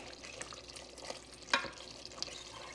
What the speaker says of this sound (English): I'm just gonna give it a little stir, and we're just cooking this down.